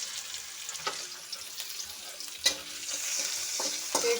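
Onion frying in a pan after fish, a continuous crackling sizzle punctuated by regular scraping knocks of a spatula stirring, close and fairly loud.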